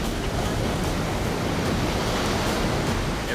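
Ocean waves and surf crash without a break during a massive swell at La Jolla Cove, a loud, dense roar with no gaps and no voices.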